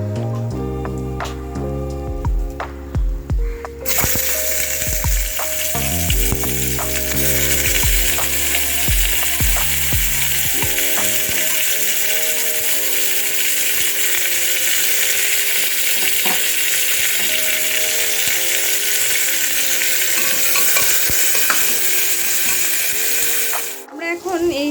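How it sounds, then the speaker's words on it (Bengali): Chopped onions fry in hot oil with whole spices such as bay leaf, cumin, cloves, cardamom and cinnamon. A steady, loud sizzle runs the whole time, with clattering utensil noises near the start and a voice speaking over it. "এবার আমরা কিছু কুচনো পেঁয়াজ এর মধ্যে দিয়ে দেব।"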